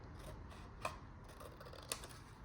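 Scissors snip through 12x12 single-sided patterned paper, two quick, faint cuts standing out over a steady background hiss.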